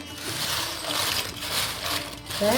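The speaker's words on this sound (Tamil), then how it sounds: "இப்போ நான் உடச்சி காமிக்கிறேன் பாருங்கள் எவ்வளோ கிறிஸ்பியாக இருக்குன்னு" Crispy homemade potato chips snap and crackle as they are broken by hand, a quiet continuous brittle crunching with small bursts.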